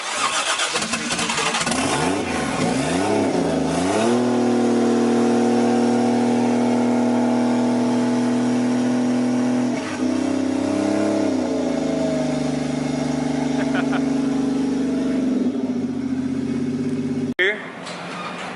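A Nissan 240SX with a swapped 1JZ VVTi engine cranks, catches and settles into a loud, steady idle, then rises in pitch with throttle blips and revs before falling back, recorded close up with people talking nearby.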